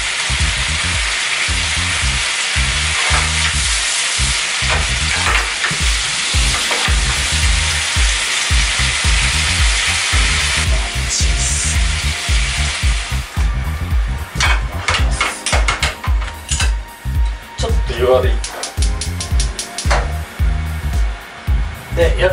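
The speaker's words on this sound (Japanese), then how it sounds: "少しこうオリーブオイルとお湯を、まあ、混ぜ合わせる、まあ、いわゆる乳化ですね" Olive oil and hot water stirred over high heat in a pan for a tuna bottarga peperoncino, a loud close bubbling sizzle that turns into choppy, rhythmic stirring and splashing in the second half.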